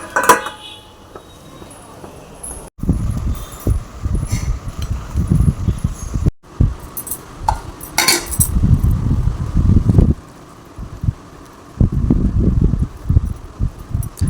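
A lid placed on a metal cooking pot of simmering flat bean curry, with repeated clattering and scraping metallic knocks and rustling between bursts.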